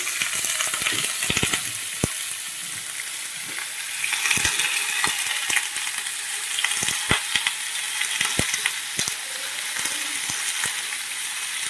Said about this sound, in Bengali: টমেটো আলু এটা দিয়ে দিচ্ছি। এটা ভালো করে ভেজে নেবো।